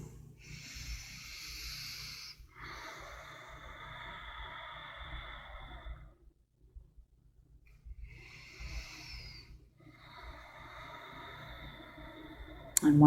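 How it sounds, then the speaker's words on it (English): Deep yoga belly breaths during a hatha standing-pose session, slow drawn-out inhales and exhales with an airy hiss, close and moderately soft, repeating in long cycles with a quiet pause midway. "Breathe from your belly in and up, expanding out through your ribs as you breathe in."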